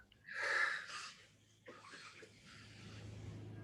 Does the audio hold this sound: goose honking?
no